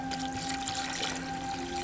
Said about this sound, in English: We're going to add, it says about 6 to 8 cups of water now.